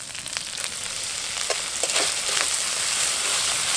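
Cumin paste fries in oil in a pan for a Bengali soya chunk curry, giving a steady moderate sizzle with a few sharper crackles and light stirring, heard up close without voices.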